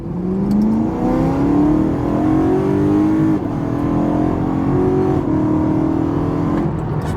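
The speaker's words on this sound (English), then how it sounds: "Still has good induction noise, man." BMW E92 M3 engine revving hard with strong induction noise, a loud, sustained rising and falling drone that swells through several rev sweeps with brief dips, heard up close and alone with no talking.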